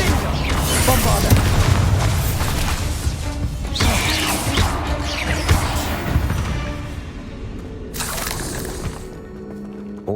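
Explosive booms and crashing impacts from a Bombarda blasting spell in the Hogwarts Legacy video game, loud and dense among continuous clattering combat effects, with a sharp burst near the end.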